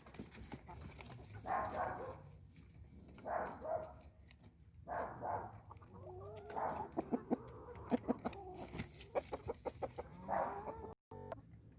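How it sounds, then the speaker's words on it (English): Several chickens cluck in bursts close by, with sharp repeated clucks and squawks, a few faint voices and rustling in the background. "Now I gotta go let the chickens out, feed them, feed Georgia, and check on Half Pint."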